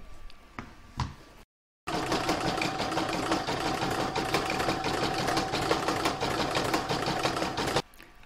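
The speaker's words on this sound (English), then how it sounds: "So I'm now going to pop this into my machine and stitch round number 29." An embroidery machine stitches a patchwork star round: after a few soft handling clicks and a brief silence, a loud, steady, rapid mechanical chatter runs for about six seconds, then stops.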